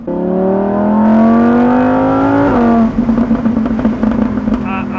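A Lamborghini Huracan EVO Spyder's naturally aspirated engine revs up loud and close in one long, steadily rising pull, then backs off to a lower, uneven burble.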